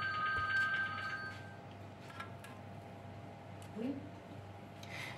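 A telephone rings briefly in a home kitchen while cookies are made, a thin electronic trill in the first second and a half, faint against room noise.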